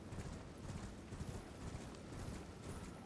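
Horse hooves clop in a steady galloping rhythm while riding in the Elden Ring game, faint and muffled beneath a continuous wash of background noise.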